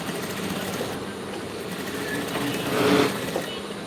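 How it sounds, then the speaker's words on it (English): A pedal sewing machine runs steadily while stitching fabric for a pencil skirt during a live class, a continuous whirring hum that swells slightly near the end, with no talk. "Now I will know whether you guys really learned how to pedal machine very well and how to sew a straight line."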